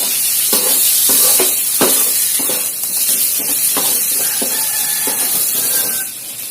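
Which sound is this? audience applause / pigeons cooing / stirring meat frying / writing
stirring meat frying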